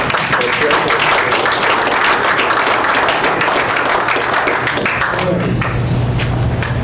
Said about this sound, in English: A round of applause for Ken.